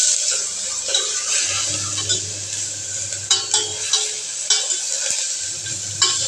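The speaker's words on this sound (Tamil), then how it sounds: "பச்சை வாடை போடுற அளவுக்கு நம்ம சிம்மில் வச்சு கொஞ்சம் அதை கிண்டி விட்டுக்கலாம்." A freshly ground paste of ginger, garlic, cinnamon, fennel, cardamom and cloves fries on a low flame and is stirred in a pan, making a bright continuous sizzle with occasional spoon taps against the metal, close and without voices.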